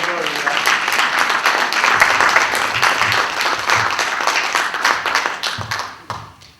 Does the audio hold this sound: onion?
no